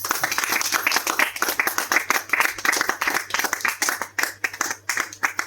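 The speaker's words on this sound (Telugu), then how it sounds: "Claps claps claps." A small group claps together at a home celebration for reaching 1.5k Instagram followers, steady, close applause with pulsing bursts that loosen and thin toward the end.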